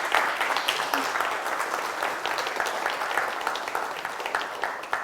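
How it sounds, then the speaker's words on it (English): An audience applauds at the close of a CEO talk session at IIT Bombay, steady dense clapping from many hands throughout, fairly near and uninterrupted. "A big round of applause."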